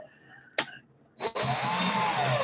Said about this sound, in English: Bring the drill right here.